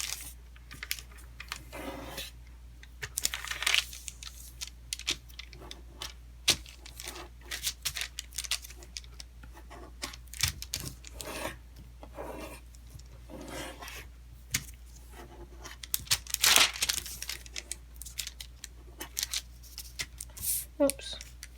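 Origami paper rotated and folded horizontally in half for a Venus flytrap model: soft close rustles, crinkles and sharp creasing snaps come in irregular bursts against a low hum, with a voice talking at times.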